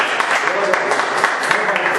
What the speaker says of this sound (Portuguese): E que as palmas louvem a Deus.